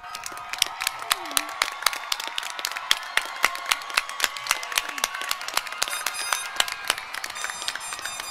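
A graduation ceremony audience gives the parents a round of applause, with steady, dense crowd clapping that runs throughout and is punctuated by sharper individual claps.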